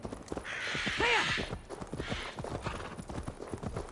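Horse hooves clip-clop at a steady walking rhythm in Assassin's Creed Valhalla, with a short whinny partway through, clear and close in the game soundscape.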